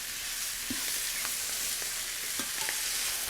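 Snow peas sizzle steadily in a hot pan for a beef and bok choy stir fry, a dense close frying hiss with faint scattered pops and stirring ticks, no talk.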